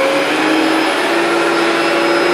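A Hoover Fantom Lightning canister vacuum cleaner powers up, its cyclone motor settling into a loud, steady whine with a sustained high tone, running close and alone.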